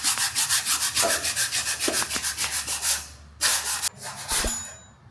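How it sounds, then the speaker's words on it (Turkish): Rhythmic rubbing strokes of sandpaper against a metal car engine part, steady and close, followed by a brief pause and a few more scrapes and a faint clink. "Hemen bu kısımda zımparamızı tekrar yapıyoruz."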